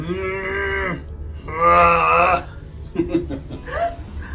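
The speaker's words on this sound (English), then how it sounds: "Look at the cows" Cows in a Dolomites mountain pasture moo twice, long, loud and nearby, the second call deeper and fuller, followed by a few softer voices and sounds.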